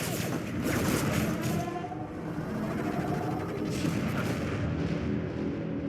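Continuous heavy gunfire and booming weapon blasts from a space battle in the video game Borderlands: The Pre-Sequel, a loud, dense barrage that stays steady throughout with no pauses.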